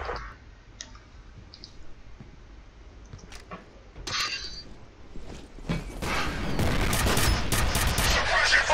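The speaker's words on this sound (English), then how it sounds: "suppressing fire with the goddamn ghost gun" Suppressing gunfire from the ghost gun in F.E.A.R. starts quietly with scattered clicks and a few thuds, then swells into a loud, sustained burst of rapid shots over the last few seconds.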